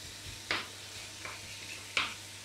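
Marinated chicken with basil, ginger and garlic browning in olive oil, with soft steady sizzling and a few sharp stirring scrapes at intervals.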